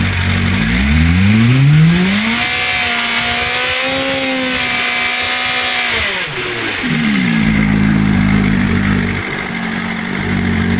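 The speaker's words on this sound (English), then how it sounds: "This exhaust tone is not bad either." A BMW M1000RR fitted with a long Akrapovic can revs up toward 8000 RPM, the exhaust tone rising and holding steady for a few seconds before dropping back and settling; loud, close and continuous with no talking.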